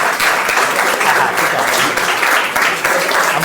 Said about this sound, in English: let's congratulate all of them once again with a huge round of applause